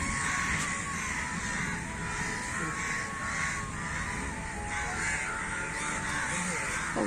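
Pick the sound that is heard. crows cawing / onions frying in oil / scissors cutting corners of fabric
crows cawing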